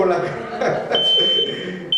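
A fire alarm, probably in a kitchen, sounds a sustained high electronic tone that cuts in partway and returns after a brief break, heard under people talking nearby.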